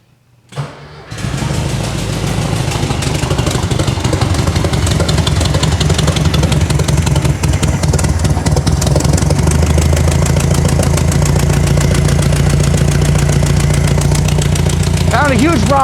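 After a brief crank, the engine of a 1971 VW Super Beetle catches and runs with the choke on, a loud, steady air-cooled idle close by that holds for the rest of the clip without talk.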